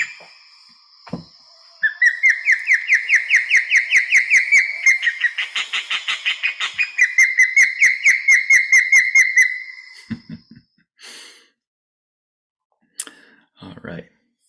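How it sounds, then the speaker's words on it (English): An osprey calls in the wild, a run of rapid, piercing whistled chirps repeating for several seconds, then a few fainter scattered notes after a short pause. "that was Osprey"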